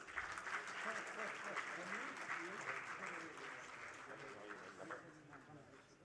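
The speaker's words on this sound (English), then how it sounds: "Can I request for a big round of applause" A hall audience at the Global Inclusive Finance Summit 2025 applauds dignitaries on stage, steady moderate clapping with voices murmuring and talking underneath throughout.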